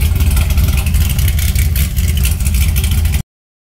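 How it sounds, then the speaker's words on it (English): A 570-horsepower Chevrolet Corvette Z06 engine runs loud and close, with a deep, steady rumble and slight fluctuations in revs, then cuts off abruptly. "But I think we got a healthy motor."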